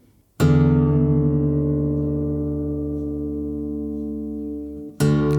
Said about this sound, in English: Drop it even more, and then raise the tuning from there.